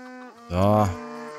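A cow in the farming game Everdream Valley gives one loud, close moo over a soft background tone.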